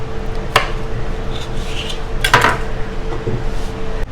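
Whole pickling cucumbers dropped one by one into a glass canning jar in a home kitchen, giving a few sharp knocks and thuds against the glass amid quieter handling rustles, close and fairly loud.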